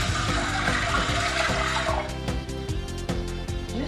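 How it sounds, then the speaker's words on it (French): Water pours steadily into a pot of azuki beans being cooked, a close, continuous splashing gush that thins into lighter trickling toward the end, with no talk over it. "J'ajoute de l'eau,"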